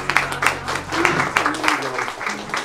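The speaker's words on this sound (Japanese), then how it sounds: "大きな拍手をお願いします。" An audience at a Beyblade tournament claps, with a dense patter of hands over a low murmur. The applause is close and moderately loud and continues throughout.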